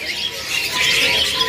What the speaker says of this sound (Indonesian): Kalau yang di atas nih ada pilihan burung parkit.